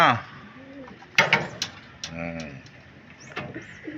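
Racing pigeons coo softly close by, a few rolling coos between brief flutters and knocks, with faint voices nearby.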